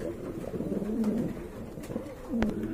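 A pair of pigeons for sale coo nearby, with a few low, rolling calls spread across a short stretch of quiet background noise.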